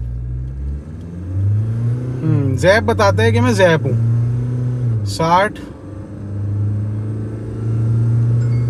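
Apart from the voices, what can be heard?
SUV accelerating hard from standstill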